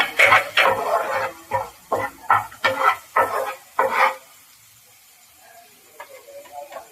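Potato roast mixture being stirred in a frying pan, a run of about ten rhythmic scraping and sizzling strokes that stop abruptly, leaving near silence with faint clicks.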